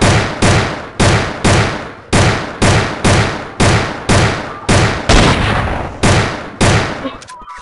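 In a Roblox zombie game, a double-barrel shotgun fires about fourteen loud, punchy blasts in a fast, even rhythm, ending with a short mechanical rattle.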